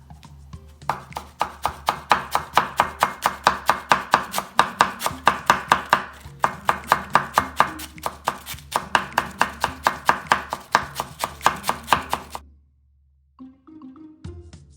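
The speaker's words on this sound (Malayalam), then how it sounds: "ഞാൻ ക്യാബേജ് അരിഞ്ഞു കഴിഞ്ഞു" A knife chops cabbage thinly, julienne-style, for coleslaw on a cutting board, a fast steady run of sharp close taps for about twelve seconds before stopping, with no talking.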